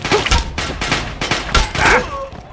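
Gunfire in Fallout 3: several sharp shots and short bursts at close range across the span, with a voice briefly calling out over the shooting.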